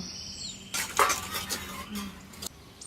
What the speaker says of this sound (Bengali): এখন মশলাটা গুলে নিব